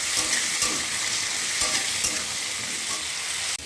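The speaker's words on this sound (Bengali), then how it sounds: "এটা ভালো করে ভাজা করে নিই" Potatoes frying in a hot wok with toasted cumin seeds for a vegetarian curry: a dense, continuous close sizzle broken by regular scraping stir strokes, with no voices.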